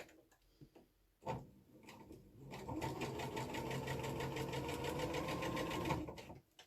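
A sewing machine runs steadily for several seconds, stitching fabric pieces for flying geese quilt units, a close, even mechanical whir with a fine rapid ticking, after a few brief handling knocks.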